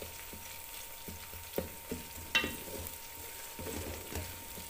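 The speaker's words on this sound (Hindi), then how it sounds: "हमारे प्याज बहुत अच्छे से फ्राई हो जाए" Onions and garlic frying in a pan for a desi chicken curry, a low steady sizzle with a few soft knocks from a spoon pressing the pan, fairly quiet and alone.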